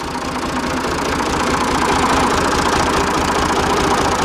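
A Ford 335 industrial diesel engine with a fuel injection pump problem idles on low idle, producing a loud, close, steady rumbling chug with an even knocking pulse throughout and no voices.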